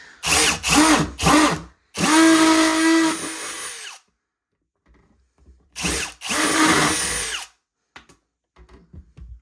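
A power drill removing screws, whirring in short bursts, a few quick pulses then longer runs, close and loud with silent gaps between.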